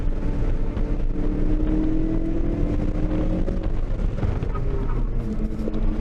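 A 2019 Ford Mustang GT V8 lapping a race track gives a loud, sustained engine drone from inside the cabin that rises and falls with shifts, with no talk.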